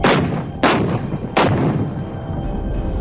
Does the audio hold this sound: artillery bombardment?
yes